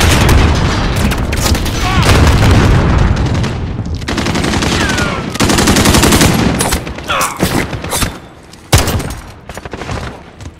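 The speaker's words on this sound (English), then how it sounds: "Enemy cruise missile." Cruise missile strikes in Call of Duty Modern Warfare on the Shipment map boom loudly amid dense rattling gunfire, a sustained barrage of blasts and bursts that thins toward the end with sharp scattered shots, with brief announcer-style voice lines.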